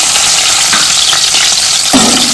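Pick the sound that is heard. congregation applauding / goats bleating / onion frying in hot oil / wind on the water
onion frying in hot oil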